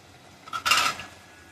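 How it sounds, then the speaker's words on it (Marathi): A metal lid set down on a cooking pot of aloo palak bhaji on a gas stove, giving one brief clattering clink with a small tap just before it, close and clear in a quiet kitchen. "आता बाकी झाकण ठेवते"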